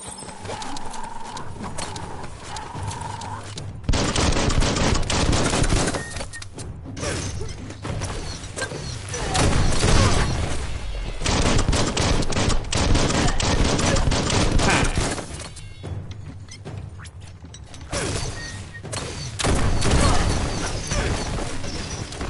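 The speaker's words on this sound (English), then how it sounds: "Bullets everywhere." Gunfire in the video game Biomutant, loud dense bursts of shots and impacts coming in waves, mixed with clattering mechanical game sounds.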